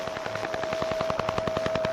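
The Duga 3 over-the-horizon radar, known as the Russian Woodpecker, comes through as a rapid, harsh tapping pulse train over a steady tone and static, moderately loud.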